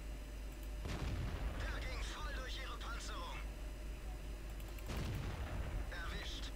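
Tank cannon shots boom in World of Tanks, two heavy blasts about four seconds apart with rumbling tails, mixed with in-game noise while someone talks over the action.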